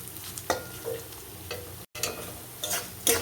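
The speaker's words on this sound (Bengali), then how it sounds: "ডালটা ভালো করে ভেজে নেব।" Broken wheat (dalia) being fried in a pan for a vegetable dish, with a quiet sizzle broken by several sharp scraping stirs of the spoon, close and without talk.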